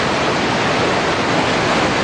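River water rushing over rocks on Scorhill moor, a steady, loud broadband roar that holds constant without a break and no voices on top.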